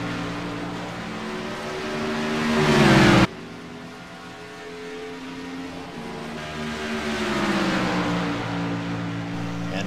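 Race cars of the UpperEdge Racing CMC Sportsman Series roar through the final lap at Road America, loud engines revving and shifting as a car passes close, then a sudden drop to a quieter, steady drone of engines that builds again.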